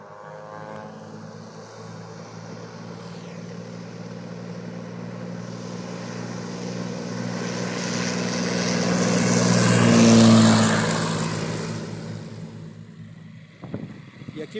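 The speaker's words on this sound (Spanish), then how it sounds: "aquí viene esta otra avioneta que es de las más pequeñas" One of the smallest light propeller planes, at the Flyght 2020 event in Rioverde, takes off from the runway, its engine drone building steadily to a loud peak around ten seconds and then fading, with a voice talking over it.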